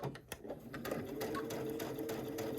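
Sewing machine stitching a quarter-inch seam on a fabric cosmetic bag, a steady close whirring run after a few brief starts, loud and continuous with no talking.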